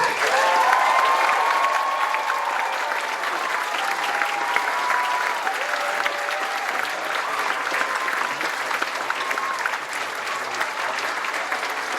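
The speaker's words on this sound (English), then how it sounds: "Please join us in a round of applause for the faculty." Audience applause for the faculty at a university graduation ceremony, a steady, dense wash of clapping from a large crowd that carries on at an even level through the whole stretch.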